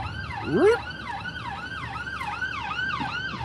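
An ambulance siren on a street in Birmingham, UK, wails in rapid repeating up-and-down sweeps, loud and fairly close, with a brief higher whoop near the start.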